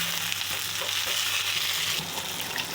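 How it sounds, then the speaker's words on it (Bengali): Ginger-garlic paste and tomato fry in a pan, a dense continuous sizzle with light stirring scrapes, close and steady with no one talking. "ভালো করে ভেজে নেব, যতক্ষণ কাঁচা গন্ধটা না যাচ্ছে ততক্ষণ ভাজবো"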